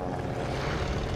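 A Stuka dive bomber drones in a steady, loud propeller roar as it approaches during a Call of Duty: Vanguard battle at Tobruk, a brief continuous engine sound with no voices.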